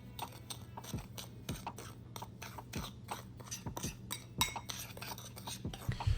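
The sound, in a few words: mixing a dry rub of salt, pepper, paprika, garlic and onion powder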